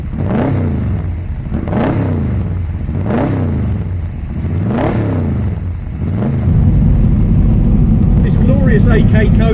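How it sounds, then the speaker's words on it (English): A 2008 AK Cobra with a 383 Chevrolet engine revving loudly and close, five rising-and-falling blips followed by a sustained high-idle roar, with someone speaking over it. "It's running a 383 Chevrolet engine built by AE08EZN Racing Services."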